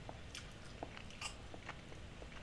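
Biting into a KitKat sprinkled with Sour Patch Kids produces a few faint, close crunchy snaps spread over a quiet moment, with no talking.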